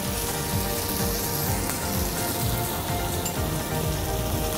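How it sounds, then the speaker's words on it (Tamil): Mutton fry with grated coconut sautéing in a pan, a steady, close hiss and crackle of frying that stays even throughout with no talking. "தேங்காய் போட்டு நல்லா ட்ரையாக வதக்கிக்கோங்க"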